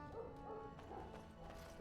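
A dog in the video game Dragon Age: Origins barks and whimpers in short yips inside a castle, fairly faint beneath steady game music and ambience.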